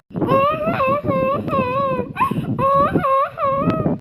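A cartoon bird named Tuntun cries in a high, voiced, wavering wail, sobbing in several drawn-out bursts with short breaks, loud and close throughout, no other voices.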